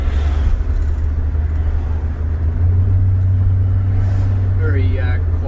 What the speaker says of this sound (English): Very quiet, this car too. But sort of standard dual exhaust.